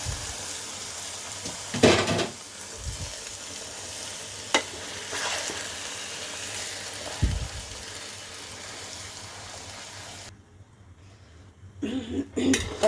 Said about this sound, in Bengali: দিয়ে আমি এখন আমগুলা ঢেলে দিব